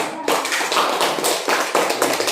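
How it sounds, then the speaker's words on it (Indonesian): A classroom of students claps for a discussion group, a brisk burst of many hands clapping in uneven rhythm, near and fairly loud, beginning abruptly after a brief quiet moment. "Tepuk tangan dulu untuk kelompok akar."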